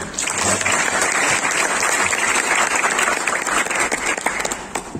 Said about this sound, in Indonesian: Tepuk tangan dong beliau